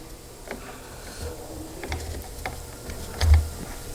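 Last screw being turned out of the shroud on a ShineMate ERO polisher, heard as faint, scattered ratcheting clicks of a screwdriver close by, with a slightly louder clack near the end.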